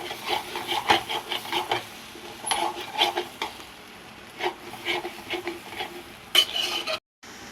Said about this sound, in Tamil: அடுப்பை சின்னதாக வச்சு நல்லா இப்படி மிக்ஸ் பண்ணிகிட்டே இருக்கணும்